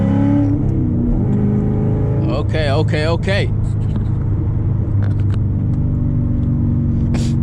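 A straight-piped, tuned 500 hp C7 Corvette with headers, full exhaust and 90,000 miles holds a loud, deep exhaust drone from inside the car, swelling slightly, while people talk over it.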